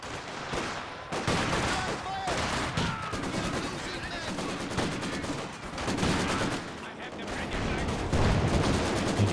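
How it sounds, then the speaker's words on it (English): Gunfire rattles almost without pause in a Company of Heroes 2 battle where PTRS anti-tank rifles engage a Panzer IV, mixed with other weapons, with no break in the dense noise. "Let's see what these PTRSs can do."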